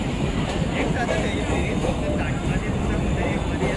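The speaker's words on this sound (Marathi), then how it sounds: "फायनली आपली ट्रेन आलेली आहे" A passenger train pulls into a crowded Indian railway station with a loud, steady rumble and hiss that fills the whole stretch, while voices talk over it.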